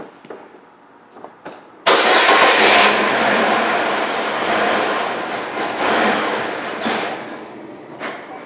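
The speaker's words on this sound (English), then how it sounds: "now we're going to start the vehicle up and let it run until it dies out" A 2004-2005 Chevy Malibu Classic with a fuel leak and misfire cranks over briefly, then fires up into a loud, steady running idle close by, with a short quieter crank beforehand and some faint clatter.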